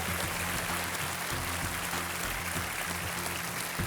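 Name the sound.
applause welcoming contestants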